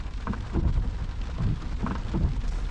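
Steady rain drums on a Vauxhall Cavalier with a C20XE engine, with dense, even patter throughout and a few low rumbles rolling beneath it.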